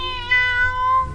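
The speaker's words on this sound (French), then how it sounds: "Il lui achète un chat, leur animal préféré." A pet cat gives a single drawn-out meow, close and clear, with no talking.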